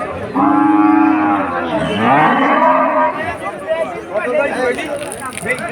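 A cow at a livestock market lets out a long, loud moo up close, followed by more lowing and scattered voices in a busy outdoor crowd.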